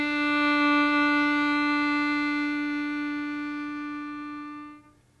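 A single sustained harmonica draw note, steady and clear with a bright reedy tone, held for about five seconds before stopping abruptly, with no talking.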